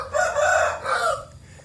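A rooster crows twice in quick succession, close and loud, with a short fading tail and no talk over it.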